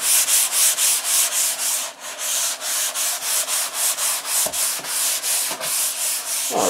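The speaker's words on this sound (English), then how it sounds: "it's good to sand those edges" Sandpaper rubbed back and forth along the edges of a painting canvas, a close, steady rhythm of rasping strokes, about three per second, with a few brief knocks toward the end.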